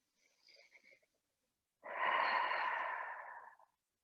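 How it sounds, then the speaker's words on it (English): A single long, breathy exhale released through an open mouth during a guided relaxation for back ache, close and steady for about two seconds, preceded by a brief softer breath. "as you exhale, release the breath through open mouth"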